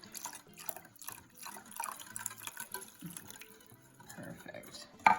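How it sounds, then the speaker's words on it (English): Water is trickled slowly into a sweet and sour sauce mixture for beef, a faint, uneven liquid pouring and dripping sound close by, with soft clinks of kitchenware. "we're gonna add a little bit of water here,"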